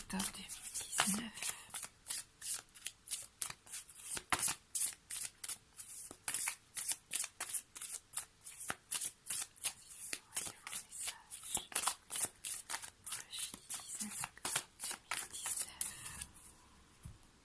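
Tarot cards being shuffled in steady rapid riffles, a dense close rhythmic flutter that runs almost continuously, with a voice talking underneath.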